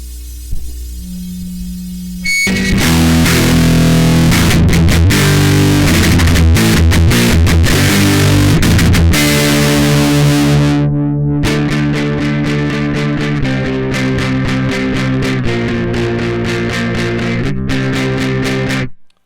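Harsh Marshall JCM-style distortion from a broken digital compressor crackles and buzzes loudly, starting after a quieter hum and breaking into choppy, stuttering bursts and pulses.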